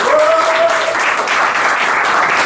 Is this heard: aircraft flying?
no